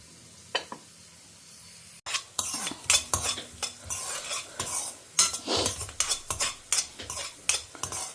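Fenugreek, lentils and coriander seeds dry roasting in a pan, stirred with a spatula in repeated scraping and rattling strokes, close and fairly loud, with no talk.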